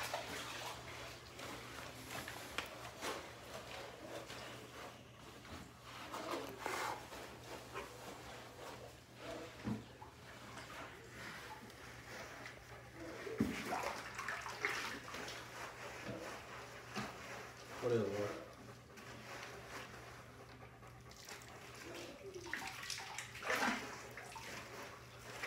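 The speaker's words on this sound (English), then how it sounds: "Late night bath in the garage in the tote. Warm hot water." Warm water runs into a plastic tote set up in a garage for a late-night dog bath, a steady low wash with occasional sloshes and knocks from the container.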